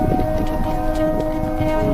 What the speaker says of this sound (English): I hear a train throughout the video